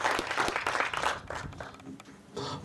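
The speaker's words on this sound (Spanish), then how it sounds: "vamos a recibirle con un fuerte aplauso al doctor Carlos Paredes, director de Inversiones del Ministerio de Industria y Comercio" Audience applause at the inauguration ceremony of an industrial condominium park, welcoming a ministry investment director: a broad, noisy wash of clapping that sustains for a couple of seconds, thins out, then swells again briefly at the end.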